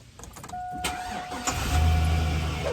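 A pickup truck engine starts and revs up as the truck pulls away across a field, a close mid-pitched motor growing steadily louder with a faint electronic tone over it.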